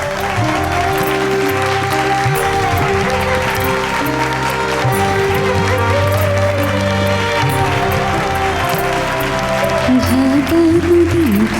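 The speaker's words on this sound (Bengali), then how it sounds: "একটা জোরে হাততালি হোক।" An audience at a competition prize-giving claps loudly and continuously, a dense crowd applause that holds steady the whole time, with music and some voices mixed underneath.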